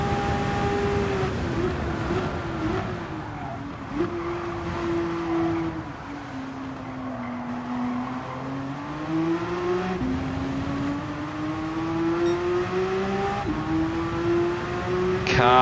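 A Porsche race car's engine in the video game Gran Turismo 7 hums steadily and shifts pitch through gear changes, up and down, running continuously for the whole stretch under a player's faint comments.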